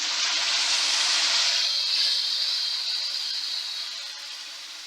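A loud, steady hiss of tomato-onion paste hitting hot oil with browned ginger and garlic in a pan, starting strong and slowly settling into a softer sizzle, close and without talk.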